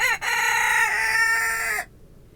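A rooster crows once, loud and close, in a snowy chicken coop during a snowstorm: a short rising note, then a long sustained harmonic call that cuts off abruptly, leaving near silence.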